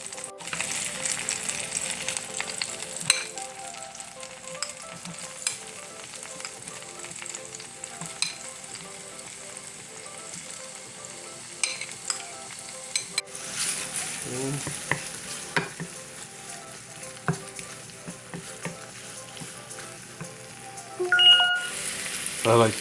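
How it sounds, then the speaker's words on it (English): Beef sizzles steadily in oil in a pan with onion, tomato and pepper and carne asada seasoning, a continuous close hiss with scattered stirring scrapes and clicks throughout. "put in that oil for the beef to be fried up with a little carne asada"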